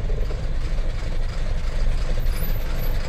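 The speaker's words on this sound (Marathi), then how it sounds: "नावडे ब्रिजवर ट्रॅफिक आहे" Trucks stuck in a traffic jam on Navde bridge, engines idling in a steady low rumble with a hiss of air brakes, close and continuous with no talk.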